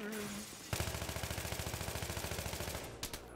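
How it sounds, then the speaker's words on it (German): An AK rifle fires a long fully automatic burst in Battlefield 3, a rapid even rattle of sharp shots that starts abruptly and runs about two and a half seconds, with faint voices around it. "die AK ist doch nicht so geil, wie ich gedacht hatte. Die sprayt ein bisschen zu viel"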